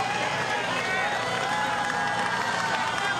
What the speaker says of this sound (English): Crowd cheering him on as well.